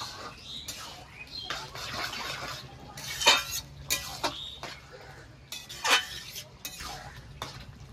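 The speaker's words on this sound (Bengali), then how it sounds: "এবার নেড়ে চেড়ে একটু মিশিয়ে নেব" Bottle gourd cooked with prawns and chopped coriander stirred in a pan, with soft intermittent scraping and clinks of a utensil against metal, a few sharper knocks among low steady background noise.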